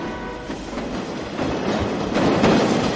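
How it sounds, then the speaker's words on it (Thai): A train rumbles past in the horror video game Teke Teke, with a continuous rolling clatter that builds gradually louder over a few seconds. "เพราะมันมีรถไฟ"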